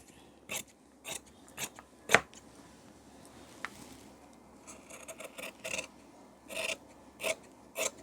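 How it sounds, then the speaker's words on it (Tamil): Scissors snip through blouse fabric to cut a sleeve, giving a series of sharp, close crunching cuts at uneven intervals with quiet rustling between them. "கையை இப்போ கட் பண்ணிடலாம்"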